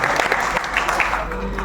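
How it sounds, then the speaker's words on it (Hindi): An auditorium audience at an Urdu mushaira in Lucknow applauds in a brief, dense burst of clapping that stays steady throughout. "एक बार जोरदार तालियां बजा दीजिए।"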